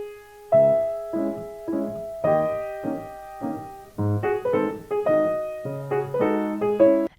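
Upright piano playing a romantic-style passage with the sustain pedal up, each chord cut off short so separate detached blocks of notes ring briefly and stop; clear, close and alone.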